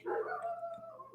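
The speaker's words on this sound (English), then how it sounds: "sorry for the dogs barking." Dogs heard from a distance, a single drawn-out, howl-like bark or yelp, faint and alone under a steady low room hum.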